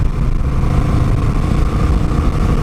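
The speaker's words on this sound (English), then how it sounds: "This bike is crazy in sport mode. I mean crazy fast." Honda Rebel 1100 motorcycle accelerating hard in sport mode, a loud, steady engine roar with wind rush that holds without a break.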